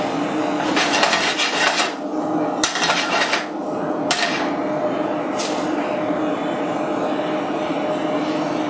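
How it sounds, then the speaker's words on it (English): Sliced mushrooms, about 150 grams, dropped into a hot pan with translucent onions, setting off a loud, steady sizzle with a few sharp metallic clatters early on, then an even hiss. "There goes 150 grams of mushrooms, sliced mushroom."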